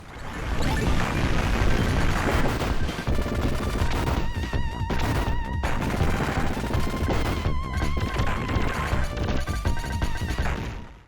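Explosions and gunfire from the Sega Genesis game Contra Hardcore, running on a MiSTer FPGA core, form a loud, dense, continuous barrage of blasts, rapid shots and crashes over chiptune music.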